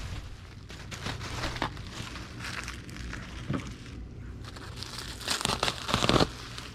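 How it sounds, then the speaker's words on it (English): A sheet of bubble wrap being handled and cut in half, soft crinkling and rustling with a few small pops, close and fairly faint with no voices. "we will need a sheet of bubble wrap that we'll cut in half."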